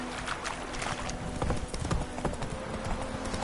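Hoofbeats of Roach, the horse in The Witcher video game, pound in a steady galloping clip-clop close by, with a faint voice briefly over the rhythm.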